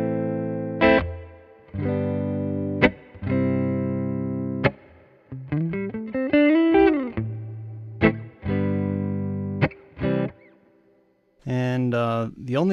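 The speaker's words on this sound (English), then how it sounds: "On the left is this splooge reverb, and just press it once and it'll turn on." Guitar played through the splooge reverb on a Hothouse DaisySeed pedal: sustained chords and bent, sliding notes ring out with long washy tails, loud and close, repeated phrases with brief gaps, no talking.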